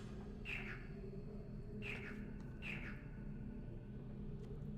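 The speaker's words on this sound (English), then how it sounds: "There's your frog. There's the chirp frog." Chirp frog creature in the game Riven giving three short, bright chirping calls at regular intervals, soft and fairly distant over a low ambient rumble.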